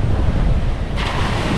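Sea waves wash and roar steadily at close range, churning loud and continuous with heavy wind buffeting the microphone during a fishing outing.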